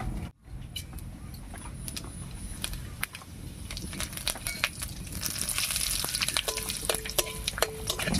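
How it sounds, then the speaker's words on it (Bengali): Cumin seeds and two bay leaves crackle and sizzle in hot mustard oil in a kadai, a steady close frying hiss with sharp spitting pops and occasional stirring scrapes, no talk. "এবারে ফোড়ন দেব আর ফোড়ন দেব গোটা জিরা আর দুটো তেজপাতা দিয়ে"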